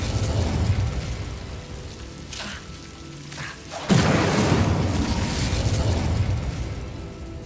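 Incendio fire spell cast in Hogwarts Legacy, a sudden loud whooshing burst of flame that erupts midway and sustains as a roaring crackle, preceded by softer ambient rumbling.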